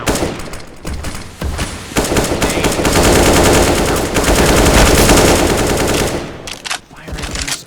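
Loud, rapid automatic gunfire in Counter-Strike: Global Offensive, long sustained bursts filling most of the stretch, with a few scattered single shots at the start and end.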